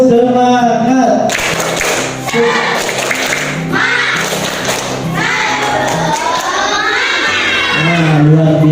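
Pupils in a classroom shout and clap through the 'tepuk semangat' chant, a loud rhythmic mix of children's voices and hand claps with brief pauses between phrases.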